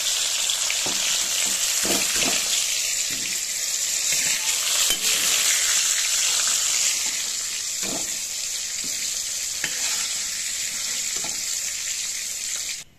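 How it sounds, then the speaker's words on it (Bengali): Okra frying lightly in oil in a pan: a steady, fairly loud sizzle with intermittent stirring clicks and scrapes for most of the stretch, fading out abruptly at the end, with no speech. "সামান্য ভেজে নেব, খুব বেশি লাল করে আমি ভেন্ডিটাকে ভাজবো না"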